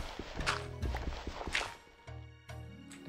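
Horse hooves clip-clopping in a hardcore survival island game, a few soft irregular hoof knocks mixed with ambient tones, fairly faint.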